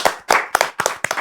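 Five close, crisp bursts of clapping from a small studio audience on a talk show, each short and sharp, coming quickly one after another.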